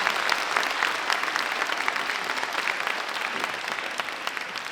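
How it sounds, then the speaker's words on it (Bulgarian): A crowd applauds a young performer, Kalina, at a tenth-anniversary concert of the Hop Trop dance club in Veliko Tarnovo, a dense, steady clapping that continues unbroken throughout. "Аплодисменти за Калина, нашата голяма звезда!"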